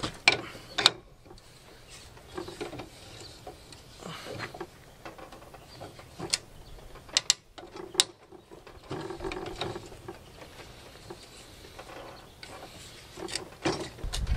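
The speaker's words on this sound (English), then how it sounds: "The way it cuts threads into a hole is you turn it a little bit and then turn it the opposite direction" A thread-cutting tap works into a hole as it is turned back and forth, producing a series of irregular close ratcheting clicks and metallic ticks with quiet gaps between, and no talk.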